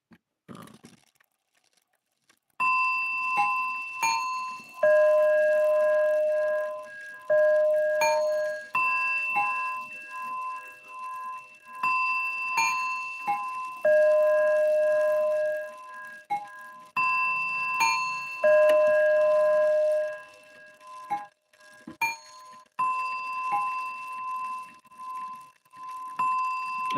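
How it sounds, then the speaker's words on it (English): A five-bell chiming clock rings out a repeating melodic chime, clear and close, with bright struck tones sounding in phrases separated by short pauses. "it's got a five bell system that chimes, and it plays like its little chime"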